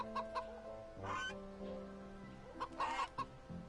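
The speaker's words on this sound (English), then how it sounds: "The goose is guarding it." Short bursts of clucking, squawking waterfowl calls from an angry goose in the video game Wytchwood, a few close sharp cries set against steady background game music.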